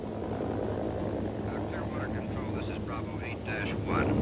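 A steady helicopter rotor drone fills the background while voices talk faintly over it, like radio chatter.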